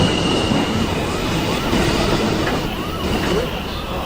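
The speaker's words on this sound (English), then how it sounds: "Is Uptown Express 2 train to Lecter Street. approaching the station." A New York City subway 2 train, an R142A, rolls into the station with a loud continuous rumble and intermittent wheel squeal, while a voice sounds faintly in the background.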